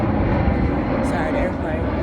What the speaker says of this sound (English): Sorry, the airplane.